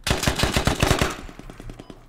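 A rapid burst of automatic gunfire in the Squad military shooter, about a dozen sharp cracking shots in quick rhythm, loud and close, with the later shots thinning into a duller echoing patter.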